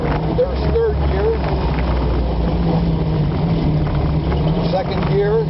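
A Bug Eye car's engine droning steadily and close while the driver downshifts through the gears approaching a corner, with a continuous low hum and a faint voice underneath.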